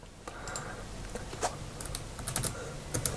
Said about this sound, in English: type in what you want, press the tab button